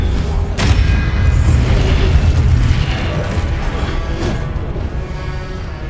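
Confringo fire spells exploding in Hogwarts Legacy, a loud, continuous rumble of booms and crashes with a few sharp bursts standing out from the dense battle noise.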